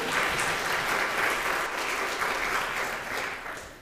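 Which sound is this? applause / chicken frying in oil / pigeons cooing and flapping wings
applause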